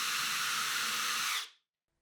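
A drill boring into wood, a loud steady whine that holds for about a second and a half and then cuts off into silence.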